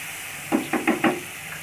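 Jackfruit with salt being sautéed in a pan, a quick series of four short scraping stirs over a soft steady sizzle, close and distinct.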